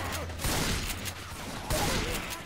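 Steady automatic gunfire roars through Left 4 Dead 2, a dense continuous fusillade with two louder surges, close and loud, with no clear talk.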